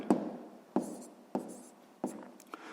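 Pen or pencil strokes scratch on paper while numbers are written out for a sixth-grade math exercise: four or five short, crisp bursts spaced about half a second apart, close and quiet, with no talking.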